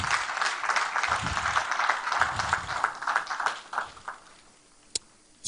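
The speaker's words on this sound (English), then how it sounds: "I think we all deserve to give you a big round of applause." Audience applause at a book launch event, a lively round of clapping that fades out toward the end, followed by a brief sharp click and a near-silent pause.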